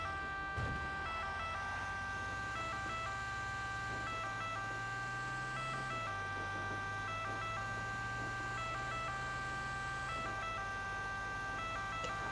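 Wailing fire truck siren in an Italian firefighter role-play video game, a steady two-tone pattern cycling continuously at even volume with no talk over it.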